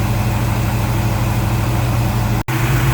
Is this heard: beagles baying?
no